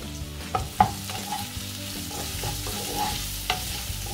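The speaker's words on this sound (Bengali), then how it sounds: "পেঁয়াজটাকে আমি বাদামি করে নেব।" Chopped onions fry in a little oil in a non-stick saucepan, with a steady close sizzle broken by several scraping stirs, a couple of them sharper and louder.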